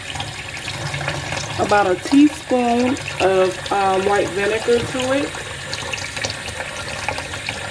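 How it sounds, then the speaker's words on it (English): Cool tap water runs into a kitchen sink as it fills, a constant gushing wash heard under a person talking throughout. "So I'm filling the sink up with some cool running water"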